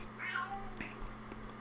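A pet cat named Blackie lets out a single short meow close by, a brief sharp call over a quiet indoor background.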